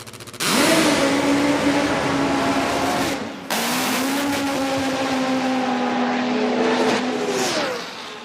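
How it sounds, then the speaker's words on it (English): Loud roaring nitro drag race cars blast at full throttle at a drag racing event, one long screaming pass, a brief drop, then another sustained roar fading away. "Sounds of the racetrack."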